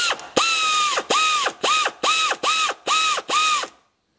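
Ratchet tightening a bolt on a GMC Terrain 2.4L Ecotec engine during timing chain work: seven quick close bursts of rapid clicking, each a short back-and-forth swing, ending in silence.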